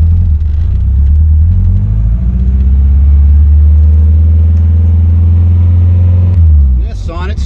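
A steady, loud low engine drone and road rumble hold nearly constant from a Saab Sonett being driven, then drop away abruptly near the end.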